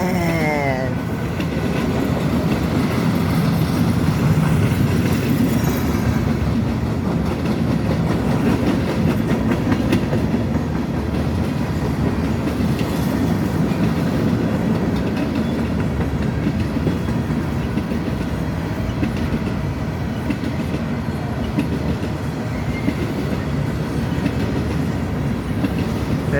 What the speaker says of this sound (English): That's a long train below.